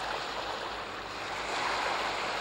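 Sea waves wash along a shore as a storytelling sound effect. A steady, close rush of surf-like noise fills the moment without any voices.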